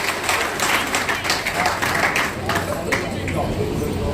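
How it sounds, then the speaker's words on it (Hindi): Applause rises from an outdoor crowd at an Indian political gathering for Kailash Gaur, a steady dense clatter of clapping over several seconds that runs under a loud voice on the mic and crowd murmur. "कैलाश गौर के लिए जोरदार तालियां"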